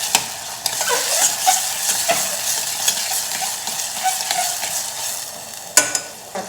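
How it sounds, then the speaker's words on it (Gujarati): Tomatoes sautéing with ginger-garlic paste and green chilli in a pan, giving a steady, close sizzle and frying hiss throughout, with occasional spoon stirs and scrapes and a sharper clack near the end. "ફરી આપણે બધું સાતળી લઈશું ટમેટાં સોફ્ટ થાય ત્યાં સુધી"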